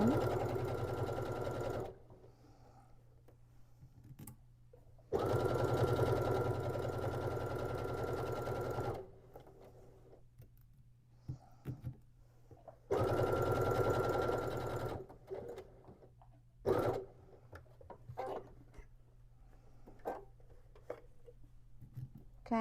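A sewing machine stitches a beginner's market tote bag in several steady bursts, running a few seconds at a time at a moderate pace with quiet pauses and light handling noises between them.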